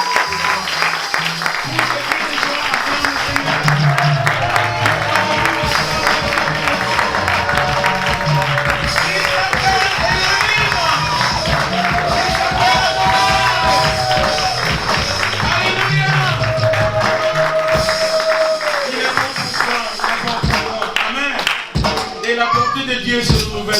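A church congregation at a French-language worship service claps and cheers at length, steady loud applause with whoops and voices rising throughout, music tones weaving underneath.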